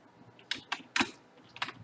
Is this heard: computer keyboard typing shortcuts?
yes